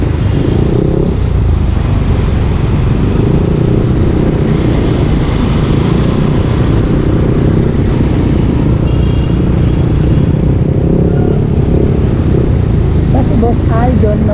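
Yamaha Aerox 155 V2 2023 scooter riding a rough, bumpy bypass road, with a steady, loud engine drone and road rumble throughout, mixed with wind and passing traffic.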